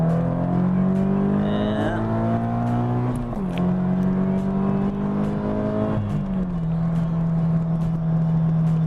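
A 2016 Scion FR-S sports car pulls hard in second gear, its engine note droning steadily upward from inside the cabin, with brief dips at shift points and road noise underneath.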